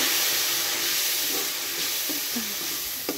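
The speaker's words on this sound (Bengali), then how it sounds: "এই পর্যায়ে আমি মশলাটা দিয়ে জল দিয়ে কষিয়ে নেবো" Spice paste for dal frying in a pan as water goes in, a dense hissing sizzle with steam and a few faint clinks of stirring, fairly loud and steady.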